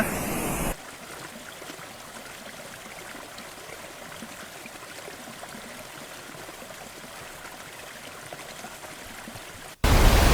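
The Sundatty waterfall in Kotagiri sends water pouring and splashing in a continuous rushing hiss. The sound holds steady and fairly close, with no one speaking.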